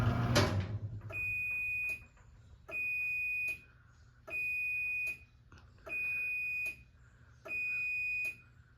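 A Chamberlain C2102 garage door opener sounds a steady series of five loud electronic beeps, each lasting under a second and evenly spaced, after a brief mechanical clunk at the start, with no talking.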